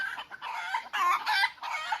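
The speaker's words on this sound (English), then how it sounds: "Even the noisy chickens." Several hens cluck close by in quick, squawking bursts, a busy noisy chatter of fowl with short pauses between calls.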